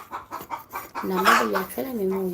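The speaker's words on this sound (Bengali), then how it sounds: "এই তোমার পাশে মুরগি ডাকতেছে" A chicken clucks close by in a home kitchen during cooking, a run of short rhythmic clucks followed by longer drawn-out calls, with people talking nearby.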